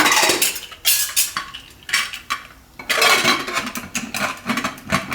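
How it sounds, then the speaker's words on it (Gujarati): A pressure cooker lid is set and closed on the pot in a home kitchen: loud metallic clanks and scraping in several bursts, with short quieter gaps between them, close and without speech. "અને કુકરનું ઢાંકણું બંધ કરી દઉં."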